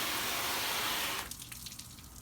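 Water from a hose sprays loudly onto a car hood to rinse off soap, a steady hissing gush that cuts off abruptly, leaving faint dripping and trickling.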